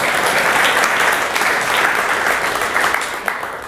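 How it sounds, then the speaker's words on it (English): A tech conference audience breaks into loud, sustained clapping for a man in the crowd, close and dense, with a few individual claps standing out as it starts to thin at the end. "Clap for this guy, please."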